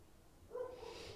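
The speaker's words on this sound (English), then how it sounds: "And that's my dog barking in the background." A single muffled dog bark sounds faintly in the background, one short low woof with some breathiness around it.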